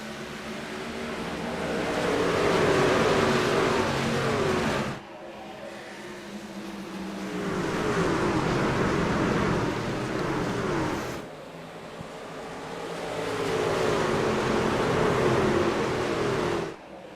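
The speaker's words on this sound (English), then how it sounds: "Here we go from Phoenix in the Oakhouse Racing Truck Series. We're underway in Arizona." Racing trucks roar around Phoenix raceway in Arizona on the opening lap, engines rising and falling in three long passing swells, loud and continuous with brief dips between passes.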